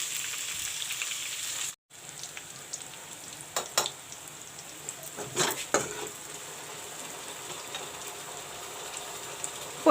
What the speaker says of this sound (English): Let the onions fry brown.